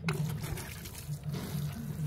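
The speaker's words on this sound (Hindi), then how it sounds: "पानी डाल दीजिए" Water is poured over freshly planted vegetable seeds in soil, making a steady, close splashing trickle with slight surges, and no talk.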